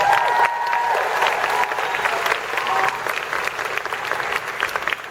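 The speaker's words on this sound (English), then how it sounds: "people should really applaud Michelle for coming into this role" Loud, dense applause and some cheering from a large convention crowd at a Comic-Con panel, sustained throughout at close range with a faint electronic tone early on.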